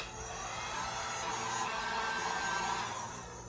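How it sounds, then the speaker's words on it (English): A heat gun blows hot air onto foam pieces for fake LED torches, a steady, loud whooshing roar with a constant fan whine that holds evenly throughout. "let's get this heat gun hooked up"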